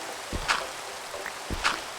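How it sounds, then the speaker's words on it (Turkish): Rain falls in the video game Minecraft, a steady soft hiss of rainfall with a couple of brief, sharper tapping sounds rising above it, and no speech. "Bu videoda da yağmur yağıyor."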